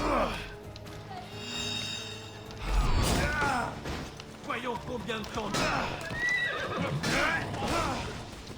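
A horse in the video game Assassin's Creed Odyssey whinnies and neighs repeatedly amid clopping hooves and clattering, loud and close, while a voice talks over it.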